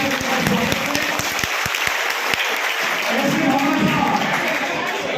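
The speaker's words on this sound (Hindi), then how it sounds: "आदरणीय इंद्र प्रकाश जी गोयनका, जोरदार तालियां।" Loud, dense audience applause at a public gathering in Nawalgarh honouring a charitable trust secretary, continuous clapping with crowd murmur underneath.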